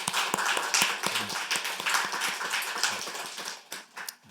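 A church congregation applauds during a Sunday service, a steady patter of many hands clapping that fades unevenly toward the end.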